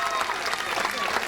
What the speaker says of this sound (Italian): Un applauso? E che è un applauso questo?